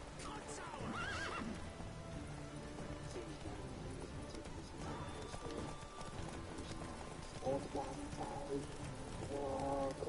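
Horse hooves clip-clop steadily under a horse's whinny during a horseback fight in The Witcher 3, with game battle noise and people talking over it throughout.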